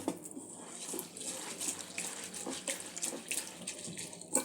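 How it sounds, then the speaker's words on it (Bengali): Flattened rice (poha) being washed in clean water in a kitchen, with running tap water and sloshing, splashing as the flakes are rinsed, steady and fairly faint and close. "চিড়েটা পরিষ্কার জল দিয়ে ভালো করে ধুয়ে নেব"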